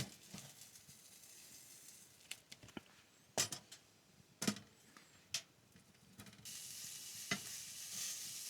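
Sausage sizzles and spits in a pan on a camp stove inside a tent in snowy Alaskan wilderness, a steady quiet fry broken by sharp pops and scraping stirs, close and without talk.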